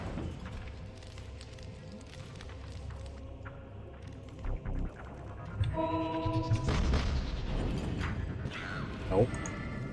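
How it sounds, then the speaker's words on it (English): Cannons fire in the dungeon-building game Dungeon Keeper 2, a few dull booms and bursts rising out of quiet game ambience. "Oh, there's cannons."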